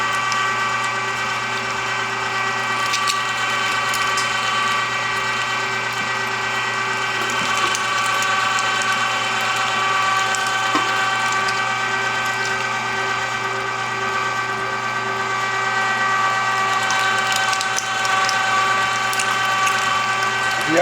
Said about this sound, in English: I have a very large grinder, so I get away with cheating and doing large pieces.